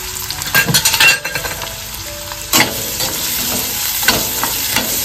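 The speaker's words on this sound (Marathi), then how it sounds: "कढईमध्ये तेल घालून घेतलेलं आहे. फोडणीसाठी सर्व लसणी घालून घेतोय. कढीपत्ता, कांदा घालून घेतोय." Garlic, curry leaves and onion sizzle in hot oil in a kadai, with a loud steady fry broken by a few bursts of stirring and scraping from a spoon; no one speaks.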